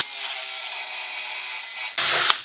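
Power drill with a tapered countersink bit boring into wood, a steady high whine running for about two seconds before a brief louder burst as it finishes.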